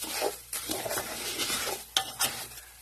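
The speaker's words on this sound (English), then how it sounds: "the rice is starting to brown really nice here. So I'm going to just keep on browning it." Rice browning in a pan while being stirred, with a steady sizzle and scraping spoon strokes that rise and fall at close range, two sharper clanks near the end.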